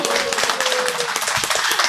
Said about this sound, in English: Give a huge clap.